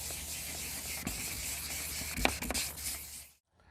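A faded car headlight is wet-sanded in circular motions, producing a steady close hissing scrape with small bumps and rubs before it stops abruptly.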